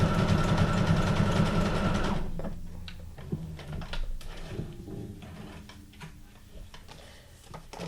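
A sewing machine stitches signatures for a mini junk journal, running loud and fast for about two seconds before giving way to quieter ticking, clicking and handling noises with faint talk.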